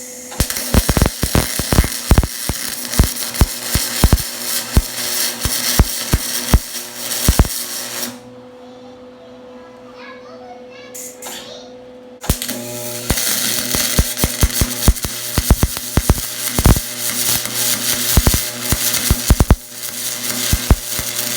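A MIG welder running a quick bead on aluminum, giving a loud, dense crackling buzz with sharp pops. It stops for about four seconds of near quiet, then resumes just as harsh.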